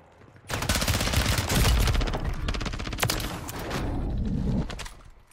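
Rapid bursts of MP7 submachine gun fire in Warzone 3, loud and close, with dense rattling volleys running almost continuously over a few seconds.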